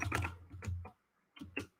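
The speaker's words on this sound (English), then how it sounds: "I'm going to just go see if my keyboard works." A few bursts of keystrokes on a computer keyboard, close and fairly loud, with a brief silent pause between the clusters of taps.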